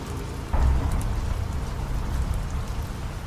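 Steady rain falls continuously with a dense hiss of droplets and a low rumbling undertone, with no voices.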